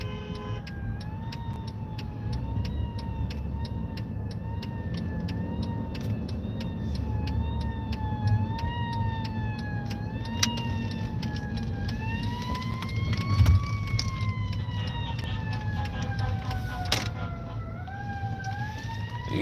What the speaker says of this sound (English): The ambulance got to blow like hell to try to get out here.